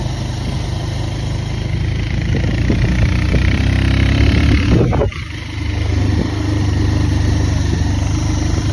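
Motorcycle engine droning steadily while riding along a road, loud and continuous with a brief drop in the middle before picking back up.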